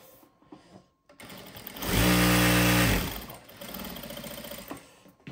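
A JACK A2 direct drive lockstitch industrial sewing machine runs in a loud, fast, steady burst of about a second, then winds down into softer mechanical clicks and whirring.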